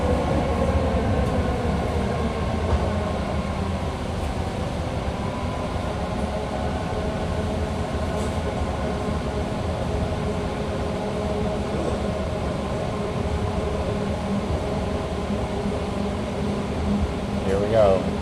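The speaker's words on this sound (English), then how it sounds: "We're going around the sharpest corner in the BART system right now." A BART train rounds the sharpest corner in the system with a steady, loud mechanical roar and rumble, with faint grinding in it. A voice talks over the noise throughout.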